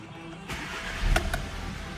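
A 2018 Skoda Octavia 2.0 TSI engine cranks and catches, with a short burst of mechanical noise as it starts up, fairly close.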